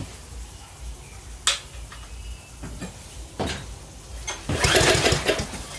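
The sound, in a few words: MasterCraft Lawn Chief tiller, Briggs 190cc OHV engine restarting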